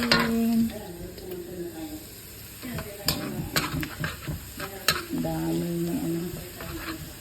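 Tomato is sautéed with onion and chili in an oily pan, giving a close sizzle with stirring scrapes and utensil clinks while a person talks over it.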